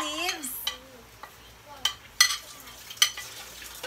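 Bay leaves sizzling in a pan while pork humba cooks, a soft frying hiss broken by several sharp stirring scrapes and clinks, with a faint high squeal near the start.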